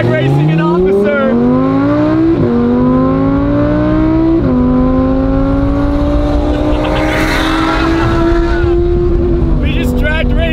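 A car drag racing a police Explorer accelerates hard, loud and close, its engine note climbing steadily through two quick gear shifts before easing off, with brief voices near the end.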